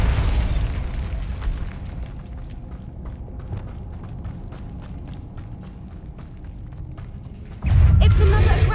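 A Bombarda spell blast in the video game Hogwarts Legacy: one loud, deep, booming burst bursts in near the end after a stretch of quieter ambient game sound with light ticking.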